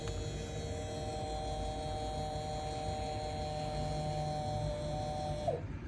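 An Irriland irrigation controller valve actuates, giving a steady, faint electric motor whine with a low hum that stops abruptly near the end with a brief chirp.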